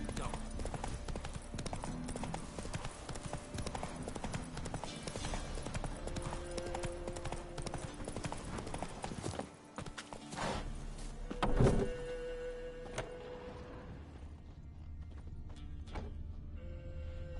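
Roach the horse's hooves clip-clop in a steady walking rhythm in the video game Witcher 3, with a sharp thud and a brief break partway, and voices speaking over parts of it.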